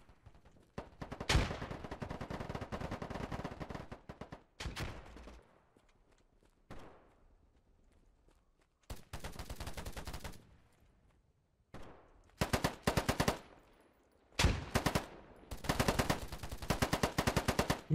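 Bursts of automatic AK-47 fire in the video game Polygon, several loud sustained volleys separated by short gaps and a few single shots, close and sharp.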